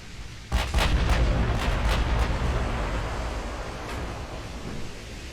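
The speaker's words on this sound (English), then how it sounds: "Torpedo hit. Nice." Torpedo hit on a warship in the naval game Ultimate Admiral Dreadnoughts: a sudden deep boom followed by several sharp blasts and a long rumbling decay, loud and heavy with low end.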